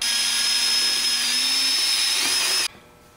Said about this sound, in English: Gonna use a Dremel, a rotary tool